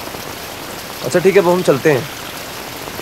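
Steady rain falls as a constant hiss through the whole stretch, and someone speaks briefly over it midway.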